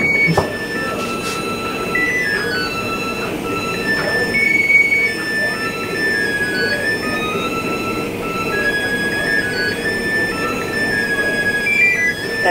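A GE Space Maker washing machine in Korea plays a chiming electronic end-of-cycle melody, a series of clear high beeping notes heard over a steady low background hum.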